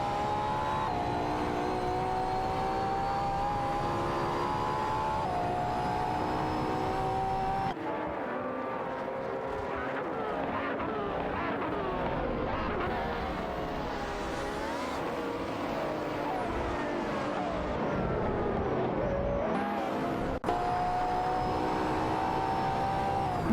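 Video-game race cars, among them a Maserati MC12, McLaren F1 GT, Aston Martin and Lamborghini Reventon, roar around a track with constant loud engine whine, shifting pitch as they accelerate and pass, no voices.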